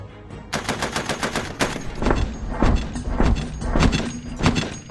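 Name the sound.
gunshots fired by remote weapon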